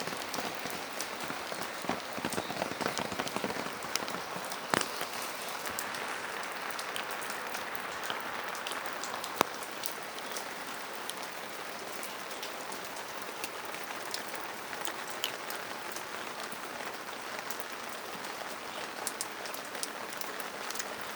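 Steady rain falls throughout, a dense close hiss of drops striking surfaces, with occasional sharper individual taps and no voices.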